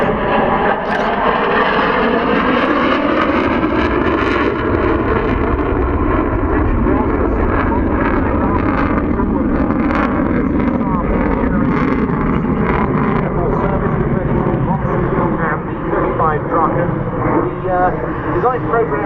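Saab Viggen jet fighter roaring continuously through a loop at the Waddington 2013 air display, a loud, steady, broadband engine thunder that never lets up and swells slightly as the aircraft turns.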